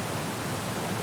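A small waterfall in the game Syberia The World Before rushes as steady, dense broadband noise, loud and close, with no other sounds.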